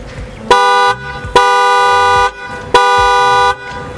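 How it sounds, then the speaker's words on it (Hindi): Imported Italian horns fitted to a car blare three times at close range, each blast a steady, bright tone lasting about half a second to a full second, with short gaps between. "उनको मैं ज़रा रिक्वेस्ट करूँगा कि हाँ हॉर्न बजाएं ताकि आपको साउंड सुनाई जा सके।"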